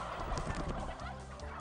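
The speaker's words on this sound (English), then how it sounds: "That means these birds are direct descendants of wild turkeys roaming America before Columbus." A flock of heritage turkeys gobbles in a dense, continuous chorus of warbling calls, close and fairly loud throughout.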